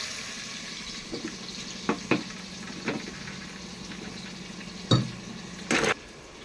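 Onions frying in ghee in a home kitchen while mutton biryani is being made, a steady close sizzle with a few scattered clinks and stirring knocks from the pot.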